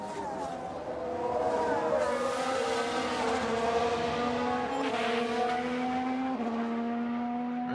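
Formula 1 race car engines scream in F1 Manager 2022 at the United States race, with rising pitch and gear shifts as cars battle for an overtake, loud and sustained throughout.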